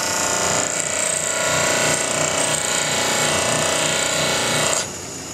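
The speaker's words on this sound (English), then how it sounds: "Grind away some more of the tip." A high-speed steel lathe threading tool tip is held against a spinning grinding wheel, producing a loud, continuous abrasive whine with a steady rasping texture that stops abruptly near the end, leaving a quieter motor hum.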